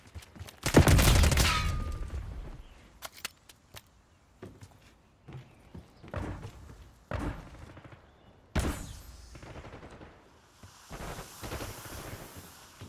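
Gunfire in Call of Duty Black Ops 6: one loud, close burst opens the clip, followed by scattered single shots, thuds and bangs of varying loudness, with a fresh cluster of sharp hits near the end.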